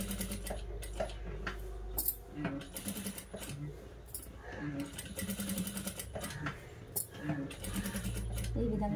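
Sewing machine stitching the neckline of a cut work blouse, a steady close mechanical whir with rhythmic clatter running continuously through the clip, pausing briefly a few times.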